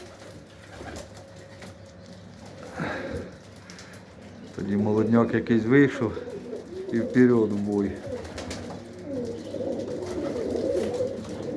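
Purebred pigeons kept in a loft coo softly in the background while someone talks over them for most of the stretch.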